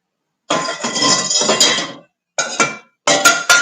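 A pan is handled on a home stove while cooking dinner, with a few close metallic clanks and scraping clatters coming in short bursts separated by silence.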